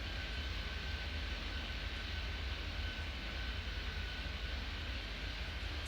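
An airliner takes off in the video game Airport Madness 3D, giving a steady, even engine roar with a faint high whine, continuous and unchanging, with no voices.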